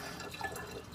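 Liquid for hard cider fermentation pours steadily into a vessel, a continuous close splashing and trickling with no talk.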